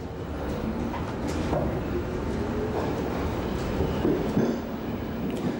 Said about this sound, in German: Seit dem 12. April halten wieder Züge in der Bernauer Straße.